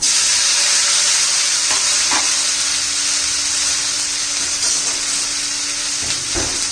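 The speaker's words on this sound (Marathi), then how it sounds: "छान असं परतून घेऊया" Round gourd (tinda) pieces are stirred in hot oil with onion, garlic, masala, coriander powder, red chilli and turmeric, giving a loud, continuous sizzle with occasional scraping stirs and no talk.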